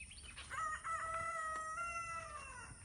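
A backyard garden rooster crows once, clear and fairly close, a rising then drawn-out call set against faint background noise.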